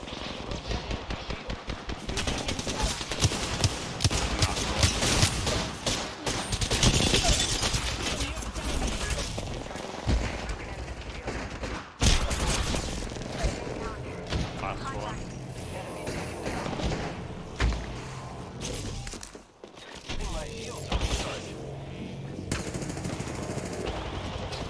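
Apex Legends gunfire pours out in loud, rapid automatic bursts and single shots, almost unbroken, with a brief lull partway through and a player talking over the action.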